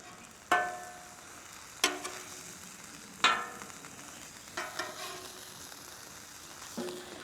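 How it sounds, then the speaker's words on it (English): Sausage sizzling on a flat top griddle: a steady, quiet frying hiss broken by several sharp metal spatula scrapes and clinks as the links are flipped, close up with no talk. "let's go ahead and flip the sausage"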